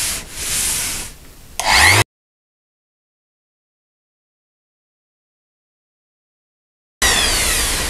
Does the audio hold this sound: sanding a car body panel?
yes